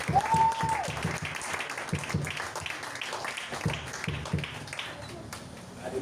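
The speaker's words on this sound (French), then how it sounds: "Est-ce que tu peux acclamer pour ça?" A church congregation applauds steadily through a sermon seminar, a dense crowd of clapping under a voice that keeps speaking, holding an even level.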